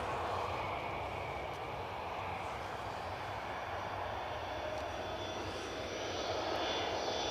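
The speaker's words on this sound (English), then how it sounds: "BizJet departure by the looks of it. The Hawker 750 currently transponding for departure to Palma de Mallorca." A Hawker 750 business jet departs Newcastle Airport on a snowy, crosswind day: a steady, broad engine roar holds for several seconds and swells slightly toward the end, with no voices.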